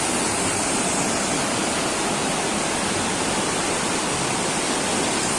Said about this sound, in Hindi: इसका पानी का फ्लो बहुत तेज है